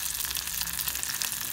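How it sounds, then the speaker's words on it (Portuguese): Close, steady crackling sizzle of cassava frying in hot oil, continuous with no voices. "A minha mãe tá fritando uma mandioquinha aqui."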